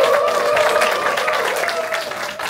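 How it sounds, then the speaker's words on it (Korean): An audience at a labor union staff training retreat applauds in a steady, dense wash of clapping that holds for the whole stretch without breaks. "큰 박수 부탁드리겠습니다"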